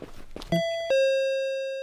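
A doorbell in the Japanese horror game Akkai Onna rings two clear chime tones, a higher note then a lower one ringing out, after a few brief muffled noises.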